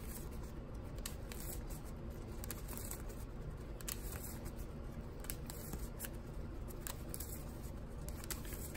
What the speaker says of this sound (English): Shuffle this up just a tad bit more.